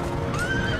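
Horses neigh in the battle game Empire Total War, a short whinny rising over the busy din of a cavalry melee.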